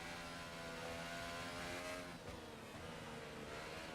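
Formula race car in a racing game, its engine droning steadily with a slight pitch dip as it circles the Japanese Grand Prix track, heard faintly and without any talk.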